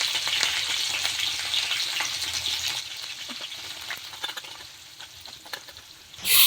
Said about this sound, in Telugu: మూకుట్లో కాస్త నూనె పోసి ముందుగా జీలకర్ర పోపు చేసుకోవాలి. ఈ జీలకర్ర కాస్త గోలిన తర్వాత పచ్చిమిర్చి, ఉల్లిగడ్డ వేసుకోవాలి.